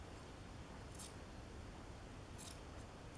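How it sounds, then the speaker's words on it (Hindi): Two short, crisp snips from scissors cutting through a sheet of chocolate, separated by a pause, over a low steady background hum with no talk. "ये मैंने कैंची ली।"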